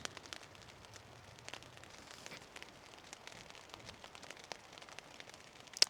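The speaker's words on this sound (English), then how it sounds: "I don't know if you guys can hear that. It's raining now." Rain falls outdoors in the wild as a faint, steady patter of scattered soft ticks and crackles, continuous and distant, with no voices.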